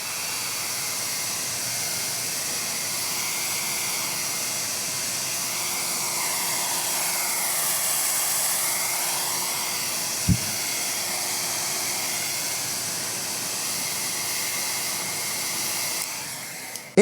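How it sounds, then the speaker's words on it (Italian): A loud, steady blowing hiss of a hair dryer runs continuously at full power, with one brief knock partway through. "Adesso mettiamo il phon a piena potenza."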